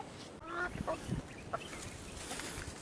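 Chickens call over a busy farmyard background, with a few short honking clucks standing out amid steady farm noise.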